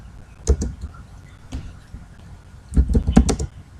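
Clusters of computer keyboard keystrokes while typing Marathi text, a single tap, a lone press, then a quick burst of several taps, fairly close and quiet with pauses between.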